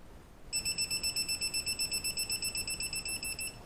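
A loud electronic buzzer starts after a brief quiet moment, then pulses rapidly and steadily, about six bright beeps per second, with no talking over it.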